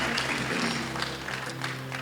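A wedding crowd claps in a dense, steady patter that fills the room from start to finish, moderately loud and with no break.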